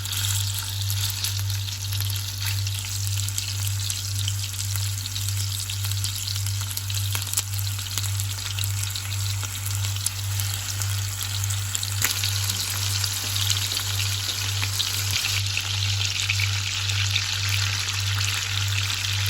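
Food frying in shallow oil in a pan, a steady close crackling sizzle that carries on for the whole stretch over a low constant hum, with no voices.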